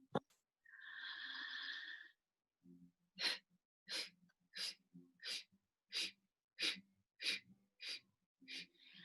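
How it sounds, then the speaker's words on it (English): Ten sharp, forceful exhales through the nose in a steady rhythm, each a short breathy burst, following a long drawn-in breath, during a yoga breathing exercise; close and clear with no talking. "we're doing like 10 exhales"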